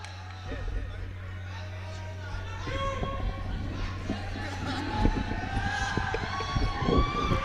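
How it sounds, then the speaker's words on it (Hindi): Audience at an all-India mushaira poetry gathering in Shiv Palace applauding to welcome poet Shamsher Jahanaganji, a dense wash of clapping and crowd noise that swells and keeps going, with some voices mixed in. "शमशीर जहानागंजी का इस्तकबाल करिए तालियां बजा करके"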